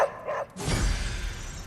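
Charlie, a pet puppy in the game Marvel's Midnight Suns, gives two short close barks followed by a burst of louder, crackling noise.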